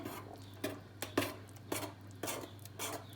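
A spoon scrapes and knocks around a pot in slow, irregular strokes, several distinct clinks against the metal as thick apricot puree is stirred.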